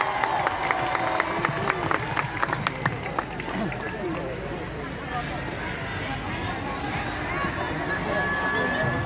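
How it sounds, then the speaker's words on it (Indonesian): Audience clapping and crowd noise at an outdoor Islamic religious gathering in Pasuruan, a broad continuous patter of many hands with sharp claps early on and a voice over the crowd. "Deni Canan, tepuk tangan untuk Deni Canan."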